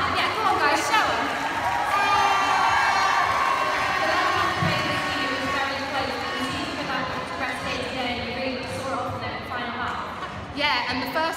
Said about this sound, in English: Really helps to have you guys cheering for us